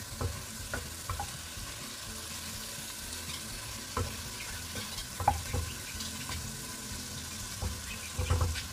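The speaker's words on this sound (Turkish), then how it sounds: "Birkaç dakikada biberlerle beraber kavuracağım." Onions and peppers saute in a pan with a soft, steady sizzle, punctuated by scattered scraping and stirring clicks from a utensil, close and moderately quiet, no voices.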